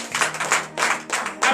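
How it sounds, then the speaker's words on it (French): A congregation at a morning prayer service in Benin claps together in acclamation, with loud, close bursts of many hands coming in an uneven rhythmic pulse and no talk over them. "Donnez l'acclamation au Seigneur Jésus."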